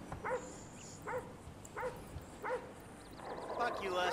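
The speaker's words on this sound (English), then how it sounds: "I hear a dog." A dog in the video game GTA V barks four times at a steady pace, faint and distant under a low ambient hiss, followed by light game sounds.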